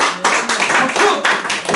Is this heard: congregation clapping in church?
yes